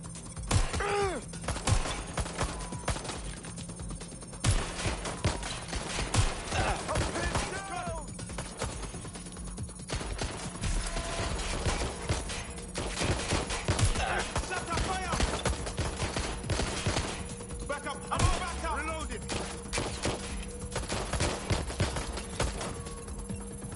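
Continuous gunfire rattles through a Watch Dogs: Legion firefight, with dense bursts of automatic shots and scattered single cracks running the whole time. Shouted voices break in now and then.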